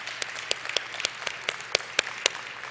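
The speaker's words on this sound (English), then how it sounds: "So yes, I think we should all cheer for Janae." Audience members at an indoor diversity and inclusion presentation clap sparsely, giving a loose, fairly even run of distinct claps over quiet room noise.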